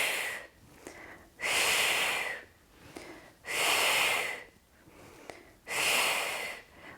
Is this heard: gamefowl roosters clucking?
no